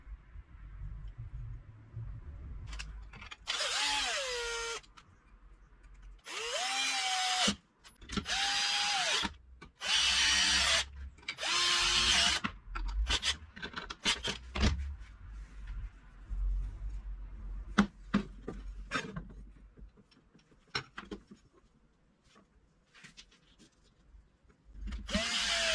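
Power drill driving small 4 mm bolts to secure bearing beds onto metal plates, in several loud whirring bursts of a few seconds each with short pauses and clanks of handling between them.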